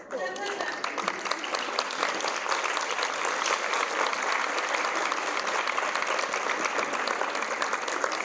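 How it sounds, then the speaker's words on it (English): Sustained, dense applause from a large audience at a school stage performance as children walk on, steady and loud throughout with a brief voice at the start. "Yes, clap as your kids come out."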